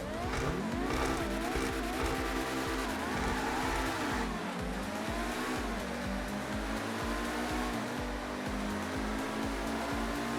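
Sports cars in GTA 5, including a Pegassi Ignis, race with a loud, continuous high-revving engine roar that swoops up and down through gear changes, close and steady throughout.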